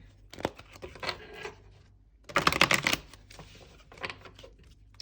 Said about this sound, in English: Here we'll do one last shuffle.